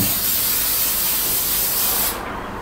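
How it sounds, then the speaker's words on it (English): A can of stencil adhesive sprays in one continuous hissing burst for about two seconds, close and loud, then stops. "Just give it a quick spray there."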